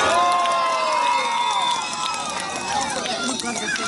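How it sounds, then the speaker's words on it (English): An outdoor village Christmas crowd cheers and applauds for the police department, with children shouting and whistles or squeals sliding above the din, loud and close, plus voices calling out. "Can we have a big round of applause for our police department?"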